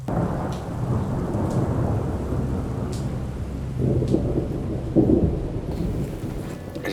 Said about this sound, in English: the rain's here